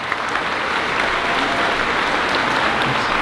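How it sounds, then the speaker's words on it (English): An audience at a fifth grade moving-up ceremony gives a loud, dense round of applause, many hands clapping steadily and evenly from start to finish with no gaps. "Let's give you a round of applause."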